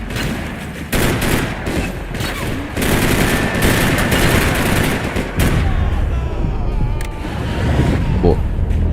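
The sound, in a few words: gunfire from Max Payne 3 video game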